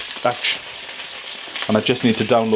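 Sausages frying in oil in a pan give a steady close sizzle, while a voice hums or speaks briefly over it.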